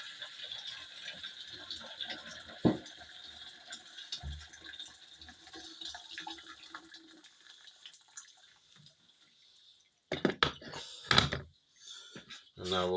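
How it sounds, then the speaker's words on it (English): Boiling water is poured from a kettle into a container ahead of cutting a glass bottle, a splashing fill that runs for several seconds before trailing off. A few knocks sound, then louder sloshing near the end. "Let's take our boiling water first and just fill this container."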